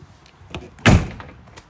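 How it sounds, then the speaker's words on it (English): The entry door of a new 2021 Forest River Rockwood Signature 8298KS fifth-wheel RV, fitted with a friction hinge, swings shut with one sharp, close slam after a faint softer knock. "Slams that door for you."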